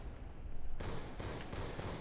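Sniper rifle shots in Call of Duty zombies on the Buried map: a sharp, loud report bursts in partway through, followed by a few further rhythmic impacts over a steady game background.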